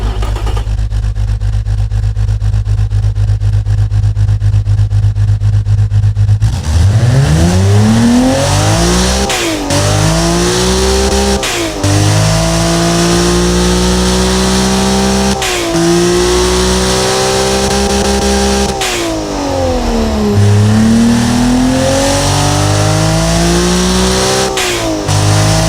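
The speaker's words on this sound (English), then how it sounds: "So let's fire this beast up and hear it." L28-SU engine in the Automation car-building game, a 400-horsepower build, starts up and revs repeatedly, rising and falling through several loud sweeps after a few seconds of idle rumble, with no talking.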